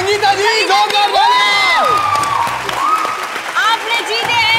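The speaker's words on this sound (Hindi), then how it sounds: "जोरदार तालियां" TV game show studio audience clapping and cheering loudly, with whoops and high excited shouts rising over the applause as it continues throughout.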